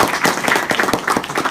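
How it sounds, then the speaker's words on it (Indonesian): An audience claps at an in-person business mentoring session in an Indonesian office, a short burst of many hands giving dense, uneven applause at moderate volume with no talk over it. "Tepuk tangan."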